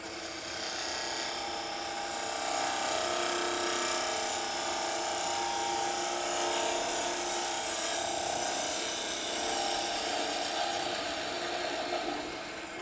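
A wood lathe turns a snowman box, giving a steady high whirring hum with faint scraping texture from the tool on the wood, moderately close and continuous with no talk.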